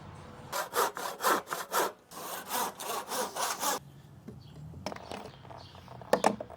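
Hand saw cutting notches into wood pieces for a small-car camper build, with a run of steady rhythmic back-and-forth strokes, a brief pause, another burst of strokes, then scattered knocks and scrapes of handling the wood, close and clear.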